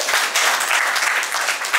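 A crowd at a school event applauds students with a short, steady burst of loud, dense clapping that carries on evenly throughout.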